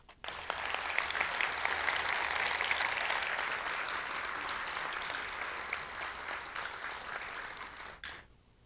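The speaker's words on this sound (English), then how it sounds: "I would like to ask you for an applause for that team." Conference audience at the 15th Congress of the International Society for Ecological Economics in Mexico applauds the organizing team, a dense, sustained round of clapping that swells quickly, holds for several seconds, then tapers off and stops abruptly.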